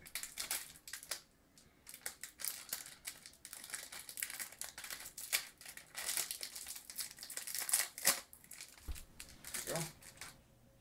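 Crinkling and tearing of plastic packaging as an IO shield for a PC build is ripped open, busy close-up rustles and crackles throughout, with a person speaking intermittently.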